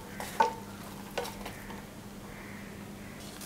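About 300 grams of onions go into a pan with ground spices, giving a faint soft sizzle with a couple of brief scraping stirs near the start, quiet and without talk.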